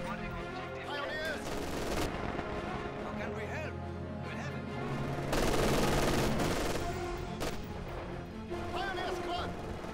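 MG 42 machine gun fire in Company of Heroes 2 on the Moscow outskirts, dense battlefield bursts and clatter continuing for several seconds, with a loud sustained stretch midway and game voices mixed in.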